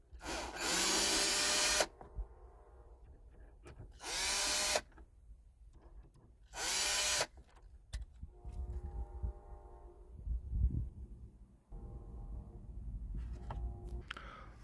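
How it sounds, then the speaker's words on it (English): A power tool removes bolts on a 2006 Mazda 3 during AC expansion valve replacement, with three loud, close bursts of whirring separated by pauses, then softer rattling and clunks of handling. "Use a power tool."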